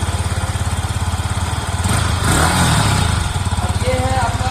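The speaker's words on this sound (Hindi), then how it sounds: "इसका एग्जॉस्ट नोट बीएस6 मॉडल का," Yamaha MT 15 BS6 motorcycle idling, a steady low, even exhaust thrum close by with a brief swell partway through before settling back to idle.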